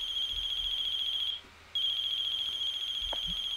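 Smartphone ringtone in a video game, a steady bright electronic ring repeating close and clear, cutting out briefly for a moment before resuming, with no talk over it.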